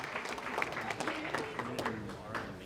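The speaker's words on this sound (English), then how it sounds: "big round of applause for the best man, Alex" Wedding guests applaud the best man after his toast, a moderate, fairly quiet patter of clapping from a room of people that holds steady for a few seconds, with murmuring voices mixed in.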